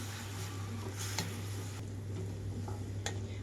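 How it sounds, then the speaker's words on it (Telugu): Mint leaves frying in oil in a pan, a soft steady sizzle with faint ticks and stirring scrapes, quiet and close, with no one talking. "2 నిమిషాల పాటు మొత్తం వేయించుకోవాలి"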